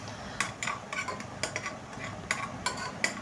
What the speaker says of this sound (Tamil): இப்போ தக்காளி வதங்க ஸ்டார்ட் ஆகிடுச்சு.